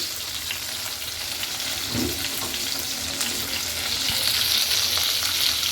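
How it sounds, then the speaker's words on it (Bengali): Chicken popcorn frying in hot oil gives a steady, close sizzle that holds throughout, with a brief burst of bubbling in the middle and no talking. "আজকে তৈরি করছি চিকেন পপকর্ন অলমোস্ট আমার ভাজা ভাজি প্রায় শেষ"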